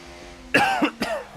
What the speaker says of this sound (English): I'm trying to cough and I've ballsed it up